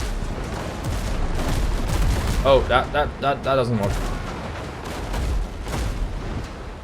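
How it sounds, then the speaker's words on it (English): Ship cannons fire in a broadside from the pirate video game Windrose, a cluster of booming blasts over busy game noise and music, with someone talking throughout. "let's use those cannons now"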